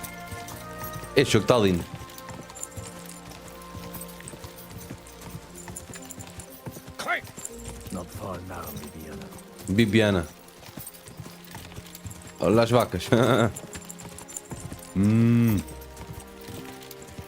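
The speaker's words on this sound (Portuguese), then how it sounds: "Ah, isto é cavalo. Isto é um bom cavalo." A horse being ridden in the video game Kingdom Come: Deliverance II, its hooves clip-clopping in short bursts under a steady game soundtrack, while people talk over it.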